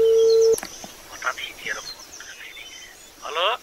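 A telephone call connects and gives one short, steady ringing tone of about half a second. Faint background sounds and voices follow once the tone stops.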